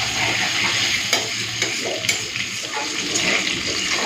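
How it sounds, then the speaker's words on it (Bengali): Potatoes sizzle loudly in hot oil in a pan with salt and turmeric, a constant close frying hiss broken by a few sharp scrapes of stirring, with no voices. "আলুটাকে লাল করে ভেজে নিই, তারপরে মশলা বাটাটা দেব।"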